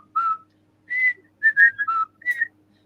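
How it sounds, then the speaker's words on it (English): A lone whistler carries a TV theme tune in a few clear, bright melodic phrases separated by short pauses, fairly close and with nothing else behind it. "You hear whistling in the background."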